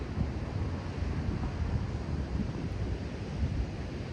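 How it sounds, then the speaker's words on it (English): Ocean waves at Sunset Cliffs in San Diego make a steady, broad wash of surf with a low rumble, mixed with wind buffeting the microphone and no clear individual breakers. "I want you to notice, once again, the sound of the ocean waves"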